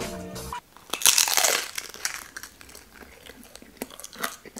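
A crisp bite into a warm, fresh Nutella-filled croissant gives a loud, close crunch, followed by softer chewing and scattered crackles of flaky pastry.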